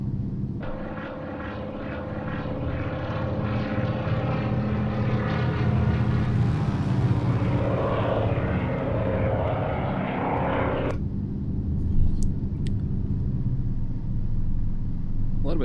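De Havilland DHC-2 Beaver bush plane in flight over Washington State, its radial engine and propeller droning as a loud, steady roar from inside the cabin, with brief clicks and a faint voice near the end.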